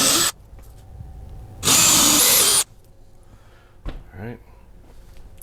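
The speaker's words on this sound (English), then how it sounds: "Alright, start drilling." A power drill boring 3/8-inch holes for mounting a microwave, with two loud high-pitched whirring bursts, the second about a second long, separated by quiet and followed by faint handling sounds.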